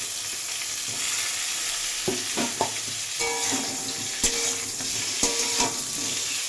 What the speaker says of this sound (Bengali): দিয়ে পটলটা একটু ভাজা ভাজা করে নেব।